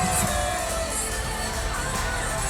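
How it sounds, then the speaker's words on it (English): A large crowd cheering and shouting steadily at a fight event inside the Yuengling Center in Tampa, a loud continuous roar with whoops throughout. "Getting these fans on their feet here in Tampa."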